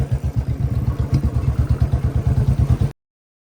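Royal Enfield Bullet motorcycles give a steady, deep, rapid thumping exhaust beat that stays loud and close for about three seconds, then cuts off abruptly. No one speaks.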